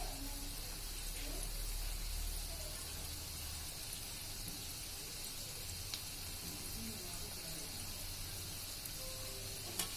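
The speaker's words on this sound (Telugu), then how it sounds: "ఇలా వేసుకున్న జాంగ్రీలను మీడియం హీట్లోనే ఫ్రై చేసుకోవాలి." Jaggery jangri sweets frying in oil at medium heat, a steady, even sizzle and crackle throughout, fairly close and moderately loud, with no talking over it.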